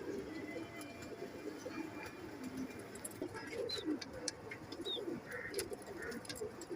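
A pair of teddy pigeons coo softly close by, with repeated low murmuring calls over a faint background and a few brief higher chirps, no voices.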